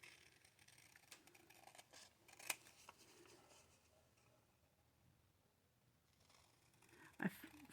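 Scissors snip through paper ephemera in two sharp, distinct cuts separated by quiet rustling and faint handling noise, close and fairly soft.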